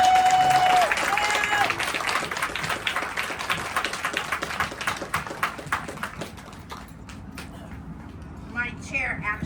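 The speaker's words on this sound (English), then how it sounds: "let's give Jan a big round of applause." A crowd at a rail event meeting applauds loudly and steadily, the clapping gradually thinning out and fading toward the end as a voice starts up.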